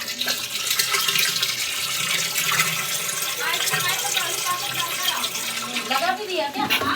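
Water gushes steadily from a pipe into a drum at home, a continuous rushing flow that runs throughout while people talk over it.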